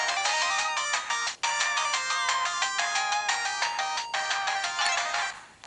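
Bright chiptune-style game music and sound effects from a modified PS Vita during gameplay, a steady run of stacked melodic tones with brief dropouts, loud and alone.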